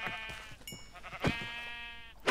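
Several Minecraft sheep bleat in quick succession, close and clear, in short wavering calls over a quiet background with faint game sounds.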